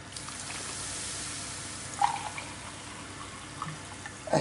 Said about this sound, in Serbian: dodat ću mineralnu vodu, sad ću odmah dodati ovako čašu i po